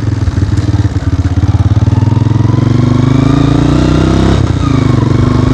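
A motorcycle engine runs loud and close throughout a ride, with a steady throbbing rumble and a slight rise in revs toward the end.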